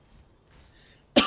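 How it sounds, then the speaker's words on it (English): A single sharp cough bursts out near the end, loud and close, after a stretch of quiet room tone while a Hades game session plays on. "Sorry I'm coughing so much, by the way."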